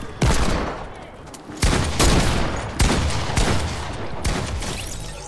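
Bursts of rapid gunfire ring out in a Zone Wars video game match, loud and close, arriving in several separate volleys with brief gaps between them.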